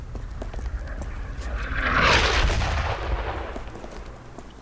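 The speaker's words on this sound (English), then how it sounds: "hopefully these guys don't get fucking killed by the mortars" Mortar fire in the World War II game Brothers in Arms, with dull booming impacts and crackling blasts swelling to a heavy peak midway before easing off, no voices.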